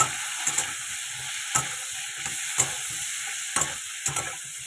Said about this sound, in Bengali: তো ফুলকপির গাজরগুলো একটু ভেজে নিই